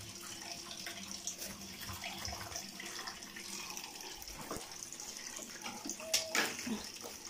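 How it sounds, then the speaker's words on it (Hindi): Hot water running steadily from a tap in a home bathroom, a faint continuous splash and hiss with small clatters of handling near the end, and no talking. "पानी चेक कर लूँ, गर्म आ गया, गर्म आ गया।"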